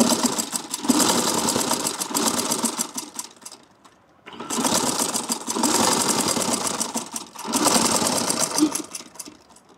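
A sewing machine stitches through lined, slightly stiff dupatta fabric in three close, steady bursts of fast mechanical whirring, separated by short pauses.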